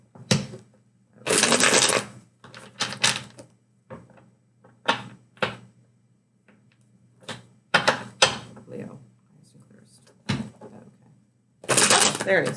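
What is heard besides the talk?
shuffling tarot cards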